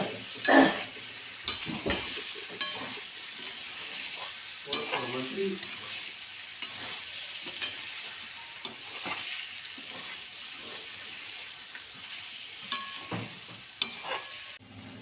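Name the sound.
stirring cauliflower potato curry with thecha in a pan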